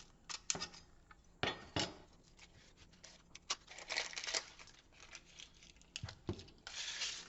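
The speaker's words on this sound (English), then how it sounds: "So let's peel this onion." Dry onion skin being peeled by hand in a kitchen: soft crinkling, tearing and scratchy rustles in quick irregular bursts, close and quiet, with no talk.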